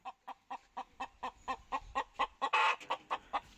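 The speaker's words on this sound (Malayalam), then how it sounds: "കോഴി ഒച്ചയെടുക്കുന്നുണ്ട്, മുട്ടിട്ടുണ്ടാവും." A hen clucking after laying an egg, a steady run of about fifteen loud, evenly spaced clucks that swell into a harsher cackle near the end, heard up close with no talking.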